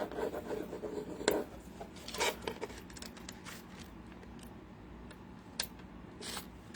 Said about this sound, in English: Just gonna rub it down.